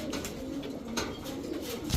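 Large imported-blood pigeons at a pigeon farm coo in a low, steady, continuous murmur that runs through the whole stretch under soft background noise.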